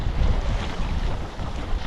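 Wind and white-capped sea waves rush around a flat kayak at sea in the Arctic, a loud, continuous broadband roar with gusty swells and no talking.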